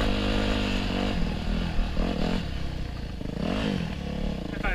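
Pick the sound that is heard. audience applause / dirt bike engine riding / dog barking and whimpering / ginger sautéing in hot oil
dirt bike engine riding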